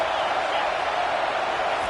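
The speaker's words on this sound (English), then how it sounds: "This crowd trying to make life miserable for this offense." Steady, dense roar of a stadium crowd in a college football video game, a continuous wash of cheering at high level with no breaks.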